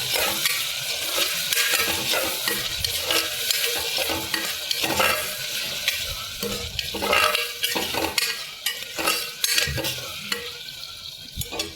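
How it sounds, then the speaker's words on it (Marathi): Chopped potato and eggplant fry in a pan, a loud, continuous sizzle with the rough scrape of a stirring spoon pulsing through it, close and steady throughout. "चिरलेला बटाटा आणि वांग घालून घेतलं, तेही छान फ्राय करून घ्यायचं 1 ते 2 मिनिट."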